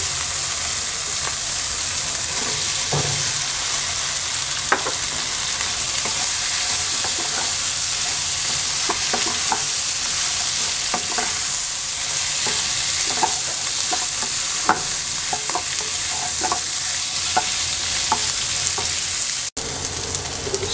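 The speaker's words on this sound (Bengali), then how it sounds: "এবার আমরা আলু দিয়ে দিচ্ছি।" Potatoes fry in spice paste for a Bengali egg curry with new potatoes, a loud continuous sizzle close to the pan, broken by frequent scraping stirs and clinks and no talking.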